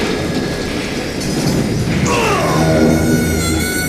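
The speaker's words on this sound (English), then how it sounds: "It was then that Jesse detached the express car from the rest of the damn train." A loud, continuous rumble and clatter of a moving train in the Western video game Call of Juarez Gunslinger, with an express car detached from the rest, plus rising metallic whines and screeching over the steady roar.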